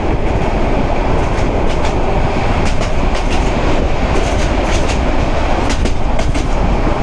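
Meghna Express intercity train rumbles along the rails while rounding a big curve, a loud, constant roar with repeated clickety-clack wheel beats close by, no talking.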